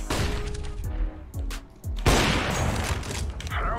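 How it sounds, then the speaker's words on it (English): Flashbang grenades and gunfire in a CS:GO match crack and boom in a rapid burst of sharp, loud blasts, followed by a dense rumbling barrage with no voices. "Deploying flashbang."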